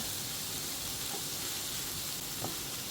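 Prawns and long beans frying in a pan over a low flame for a Kerala mezhukkupuratti, a steady soft sizzle with faint crackles and a couple of brief stirring clicks, close and unbroken, with no voices.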